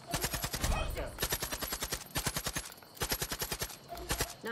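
Gunfire in the Far Cry 5 video game on PC, rapid bursts of shots in quick volleys with short pauses, loud and repeated throughout.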